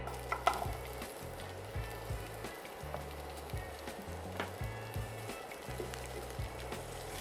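Onion sweating in olive oil in a pan as the base of a sauce for sweet-and-sour chicken, a soft steady sizzle close by with a spoon stirring and scraping in an uneven rhythm, and no talk.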